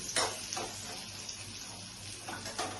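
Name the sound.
okra and paneer frying in hot oil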